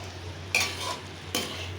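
Mushrooms being stir-fried in a pan to drive off their moisture for a mushroom biryani, with two distinct scraping stirs over a steady low sizzle and hum, no voices.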